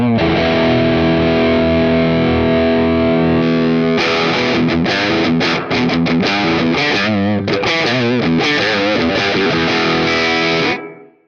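Heavily distorted electric guitar runs through a Guitar Rig 6 amp simulation with a modern 4x12 cabinet, starting with a loud sustained chord, then tight, chugging palm-muted riffing, dense and up close with no talk.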